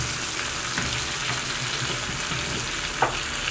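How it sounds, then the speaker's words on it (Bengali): Vegetables for Bengali pui chachra being stirred in a pan with coriander and cumin powder, a steady sizzle under soft scraping strokes and one sharper clack near the end. "সবগুলোকে ভালোভাবে মিশিয়ে নিই"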